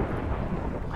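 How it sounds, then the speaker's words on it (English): Video game thunder rumbles through a lightning storm in Minecraft Pixelmon, a dense, steady low roar that fills the whole moment without voices. "the lightning storm too"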